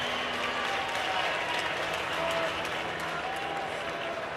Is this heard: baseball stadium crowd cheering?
yes